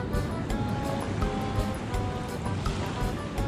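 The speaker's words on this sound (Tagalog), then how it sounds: "Lakas ng alon doon, oh." Strong sea waves after a storm: a continuous rumbling roar of surf with occasional heavier crashes, close and loud, mixed with wind buffeting the microphone.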